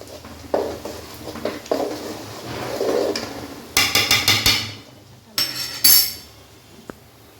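A ladle stirring onions in a cooking pot for chicken biryani: soft scattered scrapes, then a quick run of four or five loud metallic clanks and scrapes, a pause, and another short clattering burst.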